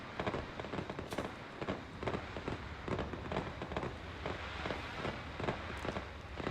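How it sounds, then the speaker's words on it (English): Blue fireworks in a video game crackle and pop in a steady stream of sharp bursts, with occasional louder bangs standing out over a dense, rain-like patter throughout. "Behind us we have some blue fireworks"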